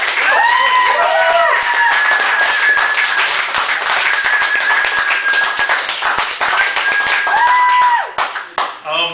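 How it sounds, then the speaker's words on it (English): Applause and scattered whoops from a café audience at a Chicago poetry feature welcoming poet Buddha 309, dense clapping with a few cheering voices over it, sustained for several seconds before thinning out near the end. "Everybody give a big round of applause for Buddha 309"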